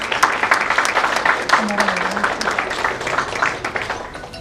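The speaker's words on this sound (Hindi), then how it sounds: "जोरदार तालियां।" Audience applause at an education award ceremony, a dense steady patter of clapping from a crowd lasting throughout, with a faint voice briefly audible underneath.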